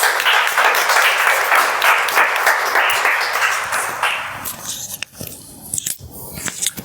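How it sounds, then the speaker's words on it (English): At a Toastmasters meeting, a room of members claps steadily for a few seconds before the applause thins out and fades. "let's welcome Akshay with a round of applause."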